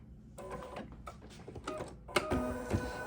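A Bernina embroidery machine trims its thread automatically in thread away mode, giving short mechanical whirring and clicking bursts close up, with brief pauses between them and no talking.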